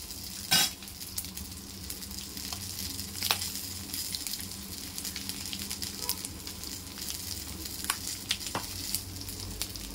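Bay leaf, dried red chilli, cumin and asafoetida crackle in hot oil as a tempering for dal, a loud steady sizzle with clinks and scrapes of a spoon stirring the pan.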